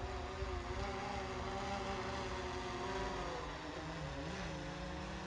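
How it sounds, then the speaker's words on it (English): A DJI Phantom 3 or Inspire 1 quadcopter drone flying in intelligent flight mode outdoors, giving off a steady, loud propeller drone and whine with shifting pitch that holds throughout. "I'm just going to bring it the aircraft forwards and back over the other side again"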